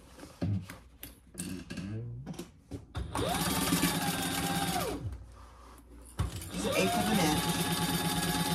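A sewing machine bastes an exterior pattern piece for a car trash can in place, running in two steady mechanical bursts of rapid stitching with brief pauses and soft handling sounds between.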